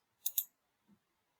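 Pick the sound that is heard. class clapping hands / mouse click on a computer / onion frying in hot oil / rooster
mouse click on a computer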